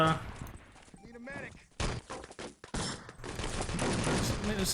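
Rapid pistol fire spammed during a 6-on-6 LAN tournament match of Enemy Territory, bursts of sharp shots mixed with other game sounds and a commentator talking over much of the action.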